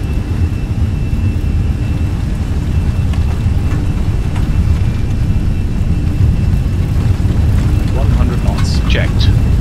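Loud, steady broadband roar of airliner engines spooling to takeoff thrust in Microsoft Flight Simulator 2020, a continuous low-heavy rumble filling the whole stretch, with a few faint higher chirps near the end.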